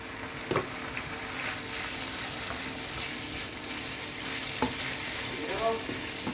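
Champignon mushrooms stir-fry with tagliatelle in a hot pan, a continuous sizzle with soft stirring scrapes and a few sharp utensil clinks, steady and close with no talk.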